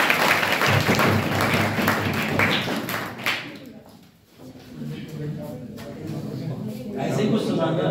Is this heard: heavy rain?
no